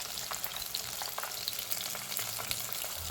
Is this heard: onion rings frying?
yes